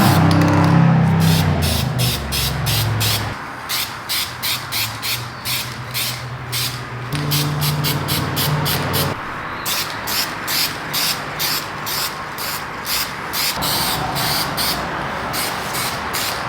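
A spray gun lays the last base coat on a Ford F250, its hiss coming in repeated short bursts with brief pauses, loud and close, with no talk.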